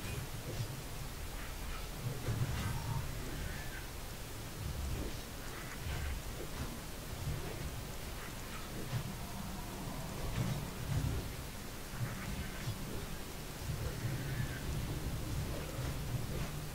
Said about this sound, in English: Thunderclap